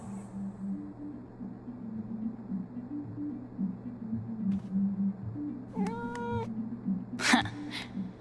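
A cat meows in the video game Life is Strange: True Colors, one clear rising meow followed by a sharper cry near the end, over a low steady hum and quiet background tones.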